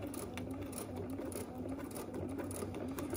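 A sewing machine stitches fabric in a quiet, steady, rapid run of needle strokes, close and continuous throughout with no talking.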